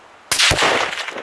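A single loud, close gunshot fired at a coyote during a hunt cracks out sharply, then a second report follows a moment later, with the blast echoing and decaying across open country.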